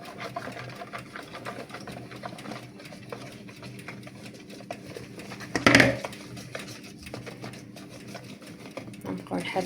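An electric mixer whirs steadily through chocolate cake batter as flour is worked in, a continuous motor hum with a louder burst midway, heard with a kitchen background.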